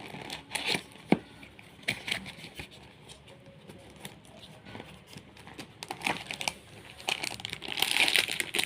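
A small, neatly packed cardboard box holding a Kundan jewellery set is opened up close, with crinkling wrap, tearing and light tapping handling noises that come in irregular bursts and build near the end, with no talking.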